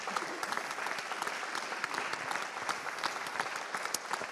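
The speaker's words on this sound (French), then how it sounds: "on peut vous applaudir." Sustained, even applause from a seated audience at a regional business club event welcoming an official, dense clapping holding steady throughout with no talk over it.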